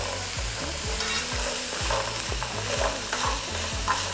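Carrot and onion cook down in a pan, a continuous close sizzle with a regular series of scraping strokes from a utensil stirring the vegetables, about two per second.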